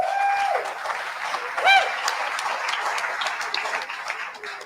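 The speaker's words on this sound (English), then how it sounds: "Please give them all a round of applause for their great work." Steady audience applause at an anti-war conference, moderately loud and continuous throughout, with a brief tonal chime near the start.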